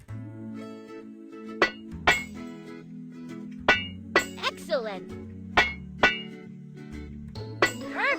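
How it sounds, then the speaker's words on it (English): A hammer taps on metal while dents are levelled out on a truck's grinder, giving several sharp clinks and clangs at irregular spacing over a background of tonal music, with a brief spoken exclamation. "Use a hammer to level out the dents."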